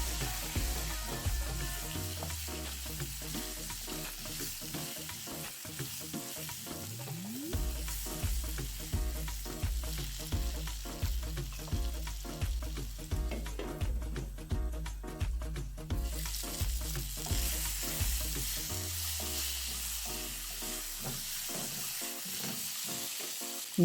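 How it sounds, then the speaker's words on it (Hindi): Potatoes fry with turmeric, salt and chili in a pan, a soft continuous sizzle under a steady repeating low thumping beat of background music, with no speech. "अब इन आलू में हल्दी आधी चमची, नमक 1 चमची और आधी चमची मैंने मिर्च डाल के इसको भून लेना है।"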